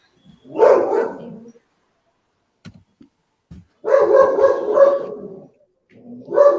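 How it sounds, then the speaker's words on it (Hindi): A dog barks at home in several bursts, a yelping volley first, then a longer run of loud close barks after a few soft knocks and a short pause, with no talk over it. "यहाँ कुत्ता भौंक रहा है।"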